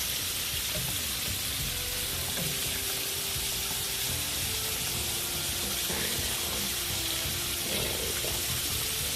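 Chicken frying in hot grease for chicken and waffles, a steady, dense sizzle that holds across the whole stretch, with faint stirring or utensil sounds surfacing now and then.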